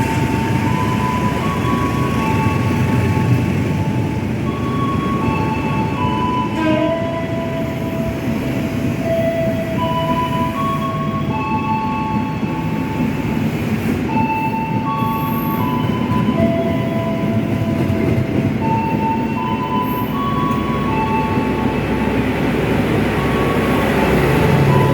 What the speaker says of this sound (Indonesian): Lawang Jaya Premium, langsung dia nggak berhenti di sini